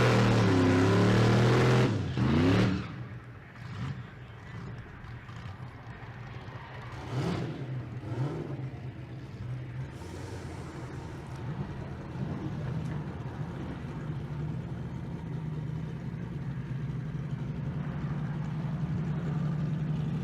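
Drag race cars, a 1964 Nova and a 1998 Trans Am, roar loudly at the start, then engine noise fades and settles into a steady, distant drone with a few passing bursts of revving at the strip.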